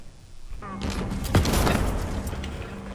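Grenade explosions in the video game Halo Infinite: a sudden heavy blast that swells into a dense, rumbling roar of overlapping bursts, loud and close, with game clatter mixed in.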